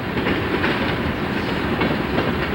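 A loud, steady rumble of a coal freight train rolling by on the rails, with a continuous clattering roar of wheels and cars close at hand.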